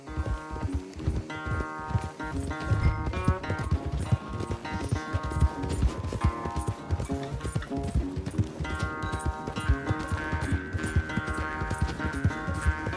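Horses galloping in a race in Red Dead Redemption 2, with fast, steady hoofbeats pounding throughout over a game music bed.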